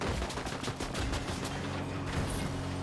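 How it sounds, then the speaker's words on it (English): Gunshots in Fortnite Mobile: a quick run of evenly spaced shots, loud and close, over a dense steady background. "Oh, we're getting shot from behind."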